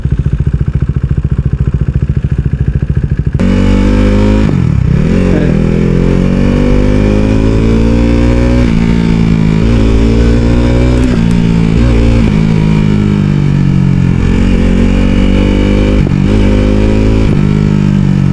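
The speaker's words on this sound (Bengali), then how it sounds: "আমি শুধু ইঞ্জিন ব্রেকটা ধরতেছি এখন বাইকটা স্লো হয়েছে" Motorcycle riding on a busy highway, loud engine drone and wind rumble up close, the engine note stepping down in pitch as it slows under engine braking, no talking.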